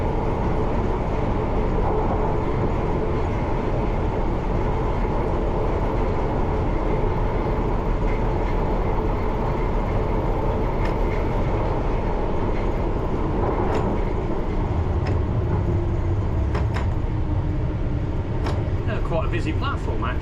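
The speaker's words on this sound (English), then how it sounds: "Coming down into Bounds Green." London Underground train running through a tunnel into Bounds Green station, heard from on board as a steady loud rumble and roar, with brake squeals and clicks rising near the end as it slows.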